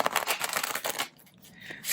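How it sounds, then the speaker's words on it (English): A quick riffling shuffle of cards, a rapid papery flutter lasting about a second, followed by quieter light handling. "One more shuffle."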